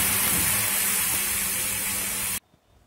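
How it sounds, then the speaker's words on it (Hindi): Water drops sizzle into steam on a hot tava griddle, a loud, continuous hiss that stops abruptly and leaves near silence. "तवे की हरारत से पानी के कतरे भाप में तब्दील होकर गायब हो गए"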